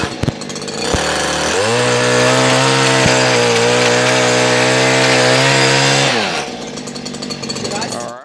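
Stihl KM94R two-stroke hedge trimmer cutting a hedge, its engine revving up into a loud, steady buzzing whine that holds for several seconds and then drops back to a rough idle, close to the listener.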